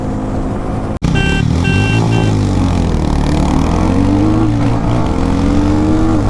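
Two motorcycles, a Harley-Davidson X440 and a KTM Duke 250, in a drag race, engines droning loud and close after a sharp cut, pitch rising and shifting as they accelerate and cruise at speed.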